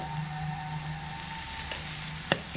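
Greens cooked with a pinch of sugar sizzle softly in a frying pan over low heat, a steady close hiss with a faint stir and one sharp clink near the end.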